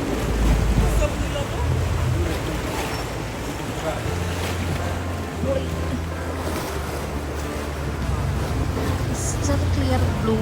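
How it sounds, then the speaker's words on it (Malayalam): A small tour boat motors into the Blue Cave near Kotor, Montenegro, its low engine drone steady beneath lapping waves and gusty wind buffeting, with faint voices in the background. "ഈ ബോട്ടിനി കേവിൻ്റെ അകത്തേക്ക് കയറ്റുട്ടോ"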